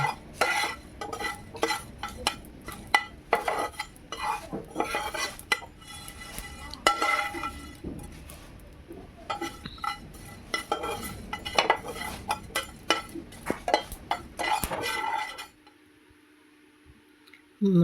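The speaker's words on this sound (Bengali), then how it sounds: "দিয়ে দিলাম দারচিনি আর এলাচ এইগুলোকে ভালো করে ভেজে আমি নামিয়ে নেব" Cinnamon sticks and cardamom pods are being roasted in a pan while a metal spoon stirs them. Steady close scraping and clinking continue in rapid bursts, then stop suddenly into near silence.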